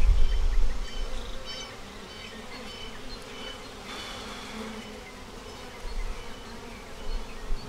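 Honey bees buzz around capped queen cells in a hive, a steady, dense hum of many wings that continues through the whole stretch without any talk.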